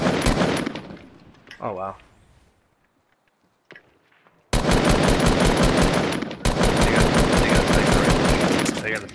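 Enemy gunfire in Fortnite, with a short burst early on, a brief quiet stretch, then long sustained rapid automatic fire that dominates the rest, with a person briefly speaking near the start.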